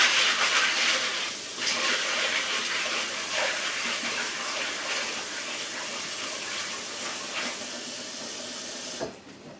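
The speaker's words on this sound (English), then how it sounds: "now I'm going to take them to my sink and I'm going to put some water in them" Water runs steadily from a sink tap into a pot of pinto beans, a loud continuous splashing hiss that cuts off abruptly at the end.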